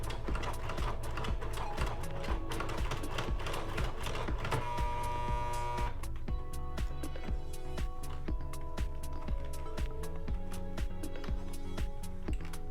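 A sewing machine stitches thick glued leather for a bowtie, a close, loud mechanical rattle of rapid regular needle strokes running throughout, with brief changes in pace.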